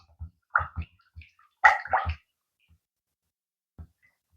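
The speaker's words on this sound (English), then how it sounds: "I'm just going to stir those ingredients together until I can feel that the sugar has dissolved in the milk" Sugar being stirred into milk in a bowl: a handful of close, wet sloshing swishes in uneven bursts, then a quiet pause and one last soft slosh, with no talking.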